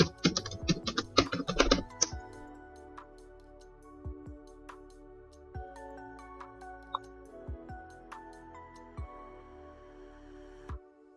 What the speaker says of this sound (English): I will quickly run the server by typing python manage.py run server.